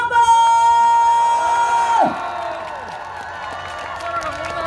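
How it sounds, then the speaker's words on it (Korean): A crowd at a seafood festival on a harbor cheers and whoops over a loud sustained shout and lingering music, then settles into softer scattered clapping and murmuring. "다 같이 박수 함성 한번"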